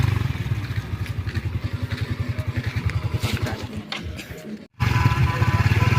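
Engine of a manual car straining in first gear while driving slowly past rice fields, a low, rough, pulsing labored drone with a rhythmic chug that cuts out briefly and then returns.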